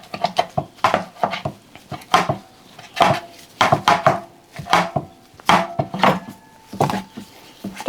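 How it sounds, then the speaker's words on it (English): A knife runs repeatedly over cooked Kentucky burgoo ingredients on a cutting board, breaking up large chunks in quick, loud, closely spaced chops with a brisk irregular rhythm and short pauses. "I'm just going to run the knife over it"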